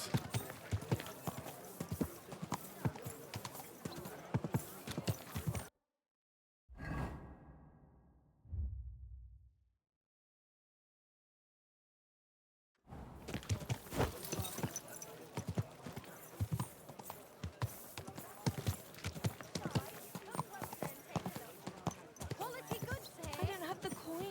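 Horse hooves clip-clop in the video game Kingdom Come Deliverance II: a brisk, steady run of close hoofbeats that drops into near silence midway, then resumes at full pace. Voices can be heard at points.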